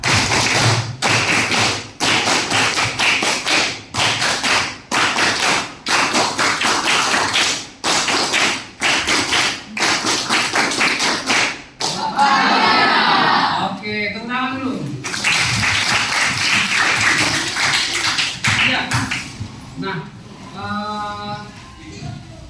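A classroom of junior high students claps in a rhythmic chant, sharp regular claps repeating loudly for about twelve seconds, followed by voices and shuffling noise in the room.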